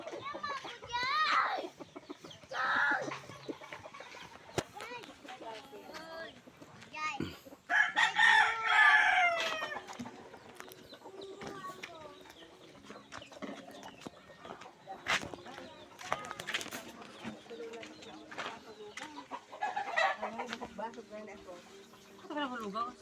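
Chickens cluck and a rooster crows loudly nearby, repeating across the stretch, with people chatting and voices in the background.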